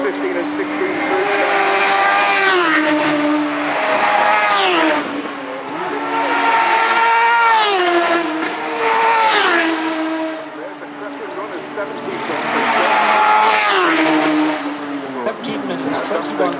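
Superbikes at the 2011 Isle of Man TT roar past on the road course in three loud, high-revving passes, each engine note rising and falling as the bikes sweep by.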